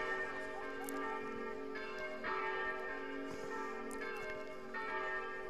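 Church bells near the Parco Pegaso bocce venue ring out festively, with repeated overlapping strikes and a continuous resonant peal, fairly close and alone.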